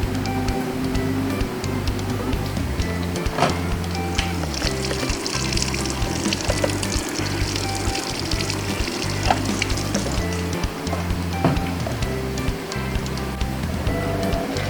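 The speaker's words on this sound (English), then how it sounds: "Now it's starting to put water into the tub." Steady rush of water pouring into the tub of a Panasonic fully automatic washing machine as it fills, continuous and fairly loud, with a low mechanical hum underneath.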